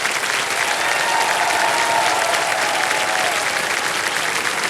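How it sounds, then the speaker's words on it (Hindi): Studio audience on Kaun Banega Crorepati season 17 breaks into sustained, loud applause, a dense steady wash of clapping with crowd murmur throughout. "ताली बजते रहे इनके लिए"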